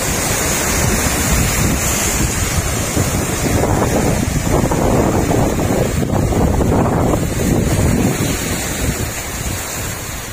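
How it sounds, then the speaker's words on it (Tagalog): Strong surf pounds a tropical beach where coconuts wash ashore, a loud, continuous roar of breaking waves mixed with heavy wind buffeting the microphone throughout, with no talking. "Grabe lakas ng alon."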